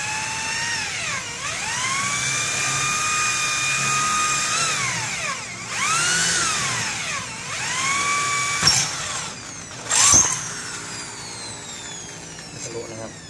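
Power drill boring a second hole while assembling an SLS model 666 digital TV antenna pole on site, its whine rising and falling in several long passes with brief sharper bursts, loud and close, with someone talking over it.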